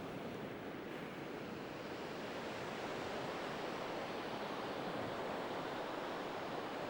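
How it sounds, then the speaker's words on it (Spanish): Sea waves along a coastal lighthouse trail, a continuous roaring wash of surf with some wind noise, steady and full throughout with no voices. "¿Escucháis las olas del mar?"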